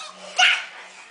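A child imitates a dog's bark with one short, sharp vocal yap, close and fairly loud, standing out briefly from a quiet room.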